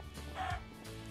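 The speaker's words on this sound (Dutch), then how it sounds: "Kijk hier die kip!" Chicken clucking from the video game Minecraft, a single short cluck heard at moderate level over a steady background hum with no talking.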